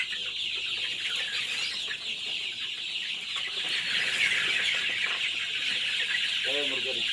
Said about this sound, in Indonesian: itu tuh ayamnya malam ini.